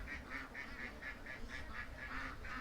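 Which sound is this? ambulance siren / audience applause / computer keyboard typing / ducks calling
ducks calling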